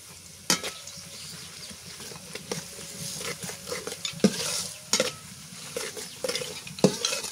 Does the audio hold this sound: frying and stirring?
yes